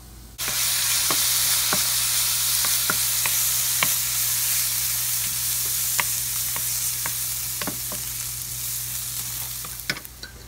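Spam and garlic fry in a hot pan with a steady, loud sizzle throughout, broken by occasional sharp clicks as the food is stirred, with no talking.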